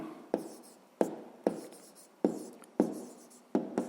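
Pen on paper writes numbers and words for a fifth-grade maths exercise, with sharp scratchy strokes in short bursts about every half second, close and fairly quiet with no talking.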